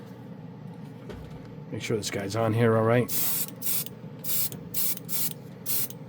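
Several short, sharp hissing bursts from an aerosol can of chrome spray paint, evenly spaced, following a stretch of someone talking nearby.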